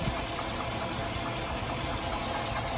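A Ford Powerstroke diesel running rough and shaking, heard close as a steady, dense rumbling idle with a hissy, vibrating texture and no voices.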